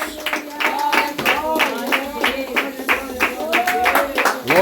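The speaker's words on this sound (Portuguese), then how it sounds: "Palmas para Jesus." Hands clap in a regular rhythm during a home worship service, the beats running under loud singing and praising voices.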